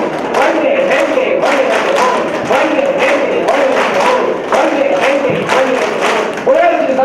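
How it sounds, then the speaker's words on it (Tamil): A laughter yoga group claps hands loudly in a repeating one-two, one-two-three pattern, the claps steady and close, with a voice talking underneath. "இந்த விதத்தை கை தட்ட போறோம்."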